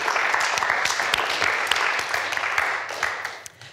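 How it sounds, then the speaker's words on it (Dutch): An audience applauds warmly with steady, dense clapping that fades slightly toward the end, at a televised event. "Geef hem een warm applaus."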